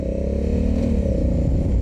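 Honda Africa Twin motorcycle with a dual-clutch gearbox runs at a steady, low, throbbing engine note, close and continuous, with faint mechanical clatter layered over it.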